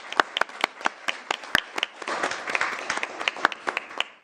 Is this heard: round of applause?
yes